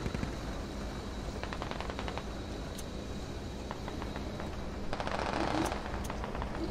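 Rapid bursts of automatic gunfire from an enemy tank in a Challenger and T-72 tank battle game sound steadily through the clip. The fire is moderately loud under constant engine rumble, with a heavier spell of fire near the end.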